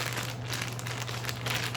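A plastic bag crinkles while an airsoft optic protector is unboxed, a steady close rustle over a low electrical hum.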